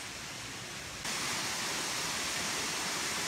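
Steady broadband hiss of a waterfall, moderately close, jumping louder about a second in and then holding a constant rushing roar with no voices.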